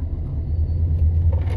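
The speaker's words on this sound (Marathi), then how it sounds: "किती ट्रॅफिक आहे" Low, steady engine and road rumble from inside a car stuck in a heavy traffic jam, a continuous muffled drone with faint hiss above, no voices.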